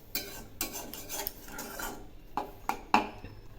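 A utensil stirs fried vermicelli with a little milk in a pan, giving a series of close scraping, rasping strokes followed by a few sharper metallic clinks against the pan.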